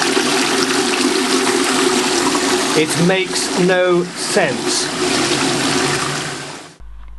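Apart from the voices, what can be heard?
toilet flushing with drinking water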